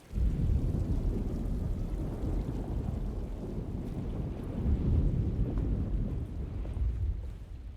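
A thunderstorm with rain in the 2024 Alone in the Dark video game, a steady low rumbling wash of rain and wind with swelling thunder, loud and continuous with no talk.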